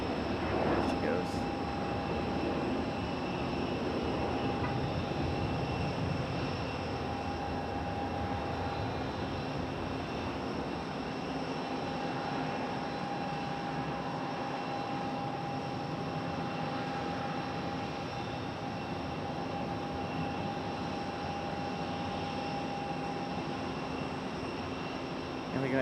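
An American airliner takes off from Raleigh-Durham airport, a steady broad jet roar with a sustained whining tone that holds for the whole stretch, fairly loud from a distance, with voices talking faintly underneath.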